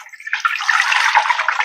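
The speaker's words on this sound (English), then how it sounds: "I'm going to cover it with water." Water gushes into a pot to cover corned beef, a close, loud, continuous pouring splash that builds after a brief start.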